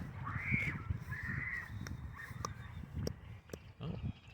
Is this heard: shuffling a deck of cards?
no